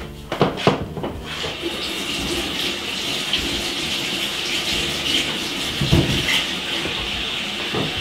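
Green bananas are washed under a running kitchen tap, with a steady gush of water spattering close by and a few louder splashes and knocks near the start and again later on.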